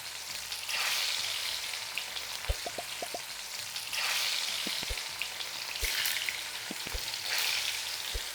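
Spinach kofta sizzling in hot oil in a kadhai, a steady crackling fry in waves with a few sharp pops and spatters, close and moderately loud with no talking.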